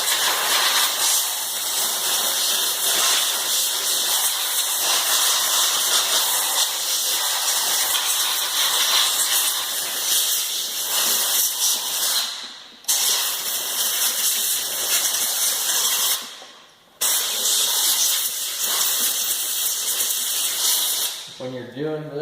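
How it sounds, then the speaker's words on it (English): Compressed air blasts steadily at a chainsaw, clearing sawdust from around the muffler and underneath. The loud, close hiss runs almost continuously, with two brief gaps where the airflow stops, and no talk over it. "first off I'll blow all this out, blow everything out front, around the muffler, underneath, just blow it all off real good"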